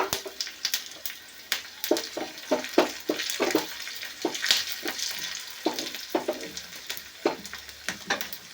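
Onions and curry leaves frying in a pan for tamarind-leaf dal, a steady soft sizzle broken by a string of sharp crackles and pops as the leaves hit hot oil, close and fairly quiet.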